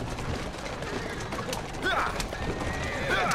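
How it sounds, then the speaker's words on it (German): Carriage horses in Assassin's Creed Syndicate, driven hard, with steady galloping hoof clatter and a whinny or two rising over constant game noise while someone talks throughout. "Ich treibe die Pferde an bis zum geht nicht mehr"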